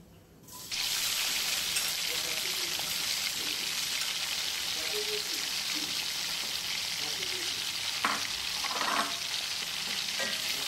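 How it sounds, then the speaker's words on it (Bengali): Finely chopped onions hit a hot pan and sizzle loudly and continuously from almost the first second, with a few scraping stirs near the end. "একটু ভাজা হোক পেঁয়াজটা, হালকা ভাজা হলে পরে আমি বাকি আদা বাটা, রসুন বাটা"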